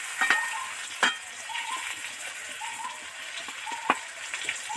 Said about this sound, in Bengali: ডিপ ফ্রাই করে আলুগুলো ভেজে নেব